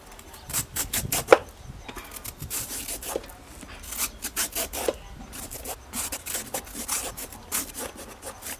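A peeler scrapes the skin off a fresh luffa sponge gourd in repeated rasping strokes, close and fairly quiet, each pull a short rough rub with small pauses between.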